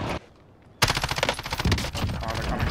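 An AK rifle fires in Call of Duty on Rebirth Island: a short opening shot, a brief pause, then a loud, sustained automatic burst of rapid close-range gunfire with no talking.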